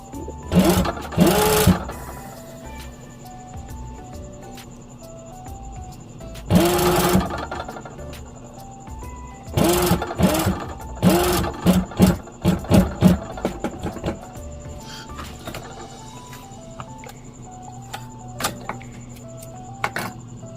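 A sewing machine stitches pajama fabric in loud close bursts, whirring runs broken by pauses and short clattering stitches, with quieter gaps between.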